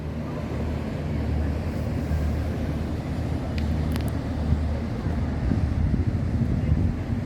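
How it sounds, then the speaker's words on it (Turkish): Continuous low engine drone of boats on the Seine in Paris near the Pont Alexandre III bridge, mixed with wind rumble and a faint distant hum, fairly steady throughout. "Şu teknelerin geçişini izleyelim hep birlikte."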